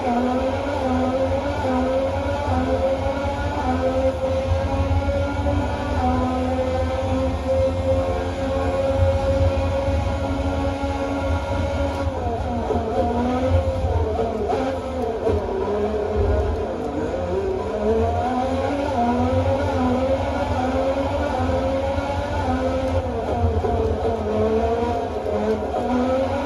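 Racing cars from an arcade game on an Arcade1Up Star Wars cabinet, a continuous engine whine with shifting, revving pitch and occasional swells, played steadily through cabinet speakers.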